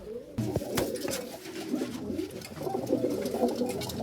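Punjabi Malwai pigeons coo in low, soft, overlapping murmurs that run steadily throughout, close by, with rustling and faint handling noises in the background.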